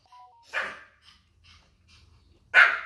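A dog begging for a panettone sandwich lets out two sharp, close barks about two seconds apart, with a short faint whine before the first and soft snuffling in between.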